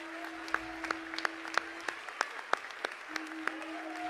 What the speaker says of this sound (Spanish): lo vamos a reconocer con un fuerte aplauso